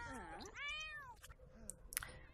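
Cats in The Sims 4 meow in a quick run of drawn-out, wavering calls, loud and close, with a few clicks and blips from the game's sounds at the end.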